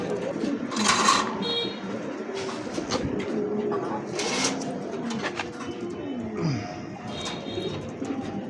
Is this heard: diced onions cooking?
no